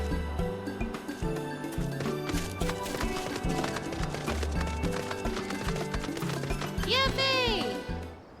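Rhythmic galloping hoofbeats of a horse mount in Final Fantasy XIV clop along over bright, busy game music, with a melodic flourish near the end.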